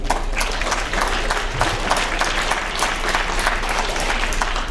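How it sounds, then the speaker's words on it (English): Audience applause in a school auditorium during a writers week assembly, a dense, steady wash of many hands clapping that stays loud and even throughout, with no talk over it. "Give yourselves a round of applause."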